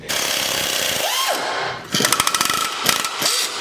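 An impact wrench works on the exhaust resonator of a 2006 Subaru STI, with a rising and falling whine followed by a loud, rapid rattling hammer burst and a shorter second burst, close by.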